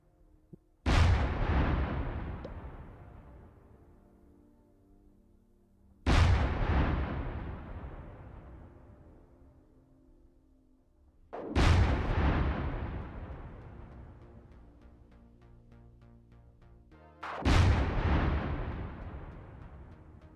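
Cannons fire from a gunship in Minecraft Create Aeronautics: four loud, booming shots spaced about five seconds apart, each with a long decaying rumble into quiet.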